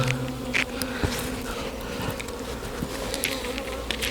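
Honeybees crowd a hive frame bearing a capped queen cell, giving off a continuous soft buzz with individual bees zipping close past now and then, fairly quiet and without speech.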